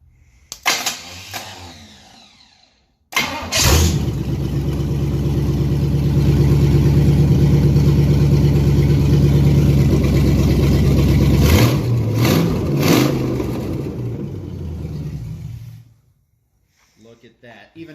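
A 1970 Pontiac LeMans V8, running off a fuel jug, cranks and catches, then holds a loud steady rumble with a few sharp revs near the end before shutting off; voices talk faintly over it.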